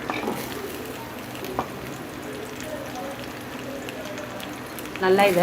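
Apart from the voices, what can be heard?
sautéing shallots for beetroot chutney in a pan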